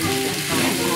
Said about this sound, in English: Let's saute this.